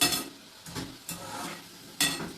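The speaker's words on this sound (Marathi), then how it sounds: "हे बघ हलवीत राहायच्या पटापटा कमी करायचं गॅस" Shankarpali being stirred while frying in a pan on a gas stove, with a few scraping strokes and a soft sizzle underneath, close and alone.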